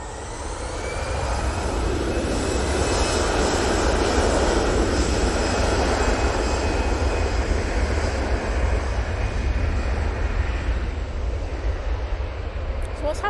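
A KLM airliner's jet engines roar at an airport, swelling up from a quieter start into a loud, broad, steady rush with a faint high whine, then easing slightly toward the end.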